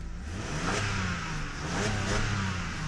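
A Mercedes W210 with its original exhaust revs close by, its engine note swelling and easing twice in a steady, throaty drone.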